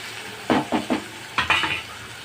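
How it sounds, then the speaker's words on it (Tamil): Onions and tomato sautéing in a pan for garlic kuzhambu, a soft sizzle broken by two bursts of three or four quick scraping stirs of a spatula against the pan, close and clear, no talking. "வெங்காயம் ஓரளவுக்கு வதங்கிடுச்சு. தக்காளி போட்டுக்கலாம்."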